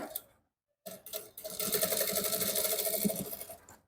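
Sewing machine stitching a trouser belt band, a quiet close rapid mechanical chatter that starts briefly, pauses, then runs in a steady burst of about two and a half seconds before stopping.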